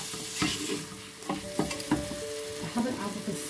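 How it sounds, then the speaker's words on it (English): Spice powders being mixed into a frying cauliflower and lamb curry, several scraping stirs at irregular intervals over a constant close sizzle, no voices. "I'm now going to add the dry powders. Give them a little"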